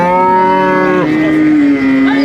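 A Holstein Friesian cross dairy cow at a cattle market gives one long, loud, close moo that slides downward and ends with a short rising tail.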